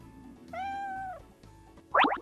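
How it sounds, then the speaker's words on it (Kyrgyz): A domestic cat gives a long, drawn-out meow followed after a pause by a shorter, louder, rougher meow, close by and with no talking. "Туура, бул мышык."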